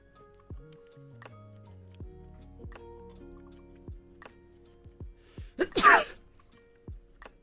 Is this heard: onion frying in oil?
no